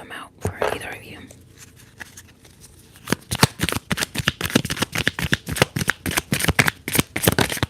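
Tarot cards being shuffled in a quiet, close setting: a few soft riffles at first, then a steady run of sharp, rapid card flicks and snaps, crisp and near, with no talking.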